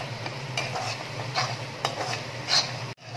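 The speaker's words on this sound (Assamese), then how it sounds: "এইফালে দেখিছে পালেংখিনি আৰু বিলাহীখিনি ধুনীয়াকৈ ভাজ খাই গ'ল" Spinach and tomatoes frying in a pan, with a soft steady sizzle broken by repeated stirring scrapes and clinks of the utensil, close up with no talking.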